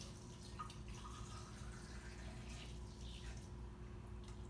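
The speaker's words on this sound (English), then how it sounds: "So I'm gonna fill it up with water" Water runs steadily into a glass gas collecting tube in a chemistry classroom, a continuous trickling fill with faint splashing, close and moderately quiet.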